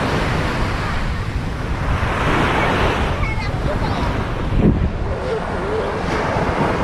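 Sea waves wash onto a beach with steady roaring surf and strong wind buffeting the microphone, loud and continuous.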